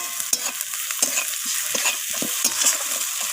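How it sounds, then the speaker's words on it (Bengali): Ginger paste frying in a pan for a cabbage curry with fish head, a loud close sizzle punctuated by quick rhythmic scrapes and knocks of a spatula stirring it around. "তো আদা বাটাটা দিয়ে আমি একটু নাড়িয়ে চাড়িয়ে নিলাম"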